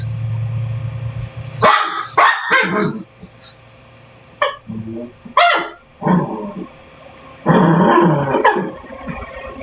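A toy poodle barks in several short bursts scattered through the stretch, fairly close and sharp, while a person talks between the barks and indoor hum runs underneath.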